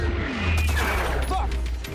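WWII tank gunfire in the film Fury, a tank platoon firing on anti-tank guns: a dense, continuous fusillade of booming shots and rattling fire close by, with voices shouting through it.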